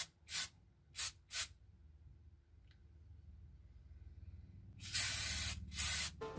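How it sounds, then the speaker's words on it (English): Short hissing bursts from an aerosol can of hair color spray, three quick ones and then two longer sprays after a quiet pause. "So in that video, Ethan spray paints his hair orange."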